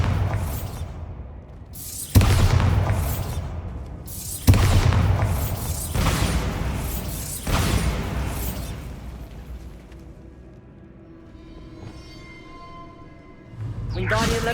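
Bombarda blasting spells explode in Hogwarts Legacy, several sharp booming detonations with long rumbling tails arriving about every two seconds, followed by quieter game debris sounds and faint mechanical effects.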